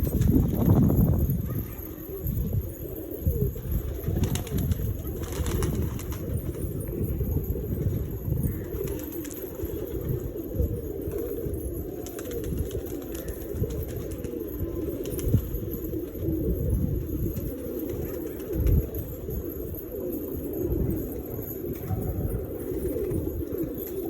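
Pigeons at a lot sale keep up a murmuring chorus of low coos alongside busy flapping and shuffling, fairly close, with soft voices in the background.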